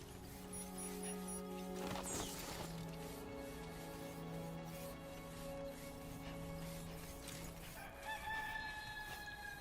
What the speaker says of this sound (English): Why did I just hear a chicken?